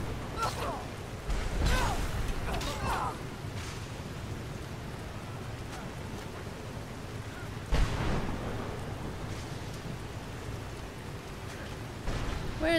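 Storm ambience in Skyrim, a steady hiss of rain with low rumbling thunder rolling underneath, including one sharper crack partway through, heard without speech.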